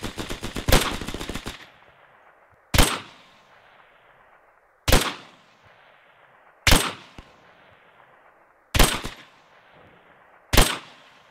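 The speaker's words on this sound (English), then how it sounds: "I'll put some suppressing fire down for you guys." An MG-42 machine gun in the Hell Let Loose video game opens with a rapid, ripping burst, then fires five more short, loud bursts spaced about two seconds apart. Each burst cracks close and trails off in a long echo, with no talking.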